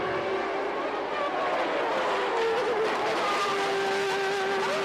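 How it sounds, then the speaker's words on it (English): Formula 1 cars roar at the start of the 1989 Brazilian Grand Prix, a dense, loud wall of high-revving engines with shifting pitches as the pack surges toward the first corner, steady throughout. "As Berger moved alongside Senna going into the first corner, they discovered 2 into 1 won't go."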